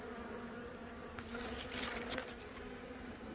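Swarming honeybees cluster on a tree branch, giving off a thick, steady hum of countless wings that swells briefly midway, close and unbroken, with no voices.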